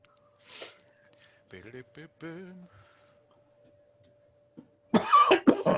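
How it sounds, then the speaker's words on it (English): A short cough early on, then a few breathy vocal sounds, and a burst of harsh, close coughs near the end. "Excuse my coughing."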